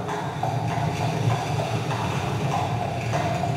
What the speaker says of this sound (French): Il suffit d'un bruit de train.